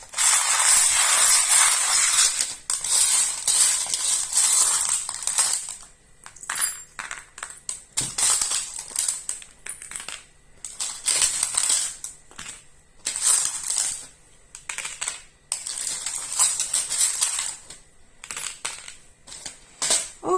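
Small metal charms jingle and clatter as they are shuffled together by hand, then drop and scatter in short clinking bursts while being laid out, with no voices over them.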